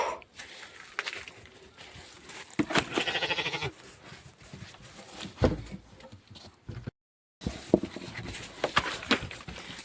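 Sheep bleating on a rural hill farm around feeding time from a metal basin, several wavering calls at close range with short pauses and one brief gap of silence, no talk.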